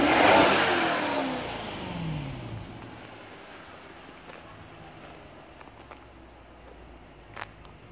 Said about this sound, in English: And so when we do rev it, we get a load of blue smoke out the exhaust.